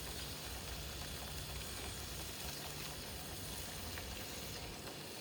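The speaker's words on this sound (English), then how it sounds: "Oh, listen to those sizzle." Food sizzles steadily in a hot pan as a course is served, a continuous close, bright hiss with a faint low hum beneath and no talking.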